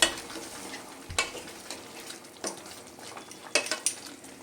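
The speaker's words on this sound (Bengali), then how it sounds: "বেশ কিছুক্ষণ ধরে খুব ভালো করে নেড়ে চেড়ে এটা আমি কষিয়ে নেব।" Mutton and raw jackfruit being stirred in a pot with salt, a spoon scraping and clinking against the metal in scattered strokes, with a faint sizzle underneath and no talking.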